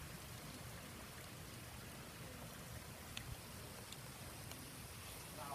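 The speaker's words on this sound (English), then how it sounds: "It's still raining." Steady, quiet rain falls outdoors after a wind storm, a soft even hiss with a few faint drips and taps and no talking.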